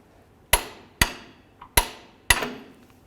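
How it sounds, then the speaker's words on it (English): On a 1998–2012 Ford Crown Victoria, a torque wrench with a 22mm socket tightens the lower ball joint nut, giving four sharp, evenly spaced metallic clicks with short ringing decays and a faint extra tap between them. "Torque this to 111 foot-pounds."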